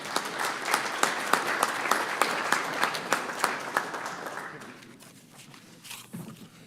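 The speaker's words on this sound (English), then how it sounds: "So just a little warm rouse of applause for Chris Zach and his future wife." Applause at a city council meeting in Roswell: a small group claps for a few seconds with crisp, distinct claps, then the clapping thins and fades out into quiet room noise.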